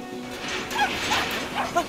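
A dog in the video game Brothers: A Tale of Two Sons gives a few short yips and whimpering barks, spaced apart and moderately loud over soft game ambience.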